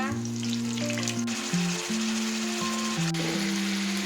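Garlic and ginger paste frying in a pan for a chicken pilaf, a steady close sizzle with soft stirring scrapes running throughout, while low tonal hum bands sit underneath.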